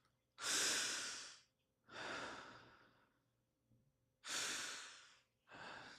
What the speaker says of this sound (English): 2 breaths into your chest.